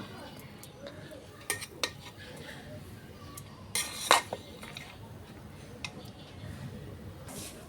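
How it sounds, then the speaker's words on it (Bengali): A metal spoon scrapes and clinks against a pan while homemade fried rice is tossed with garam masala and other spices, giving quiet, irregular stirring taps with a few sharper clanks. "এবার সব কিছু দিয়ে আমি রাইসটা মিশিয়ে নেব"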